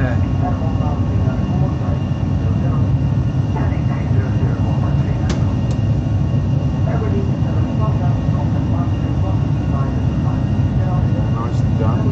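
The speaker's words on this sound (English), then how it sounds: "Especially when you're in a little prop plane." Inside a small propeller plane in flight, a loud steady engine drone and rumble that fills the whole cabin without a break.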